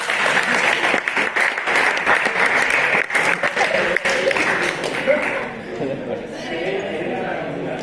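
Students in a physiology class applauding, a lively burst of clapping with chatter and a few chuckles that fades into murmuring voices.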